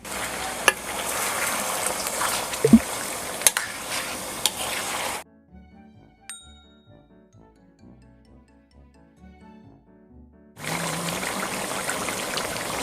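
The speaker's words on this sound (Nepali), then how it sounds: "अब तेलमा हालेको सबै मासुलाई मजाले चलाउनु पर्छ।" Steady sizzling and crackling of chicken frying in oil, broken midway by several seconds of near silence with faint tones, then the loud sizzle returns.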